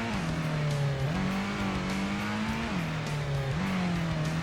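Race car engine from the Gran Turismo PS1 video game, driving around in circles, a loud continuous engine drone whose pitch dips and rises as the car lifts off and accelerates, with no talking.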